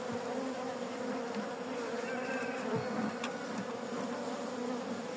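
Honeybees at a hive while the queen is released from her clip, a dense, steady buzz of many bees close by, unbroken and level throughout, no talk.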